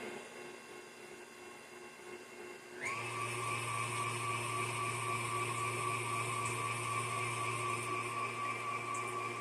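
An electric hand mixer switches on partway through and whirs steadily at high speed, beating eggs and wet ingredients for cranberry nut oatmeal cookies in a bowl, loud and continuous after a quiet start.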